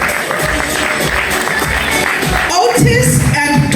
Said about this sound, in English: Round of applause, ladies and gentlemen, as our nominees make their way to the stage.